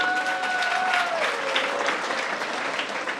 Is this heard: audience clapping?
yes